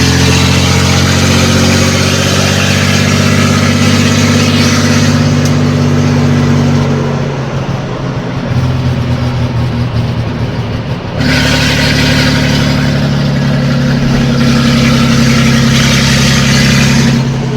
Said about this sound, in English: Series 1 240Z is running on its own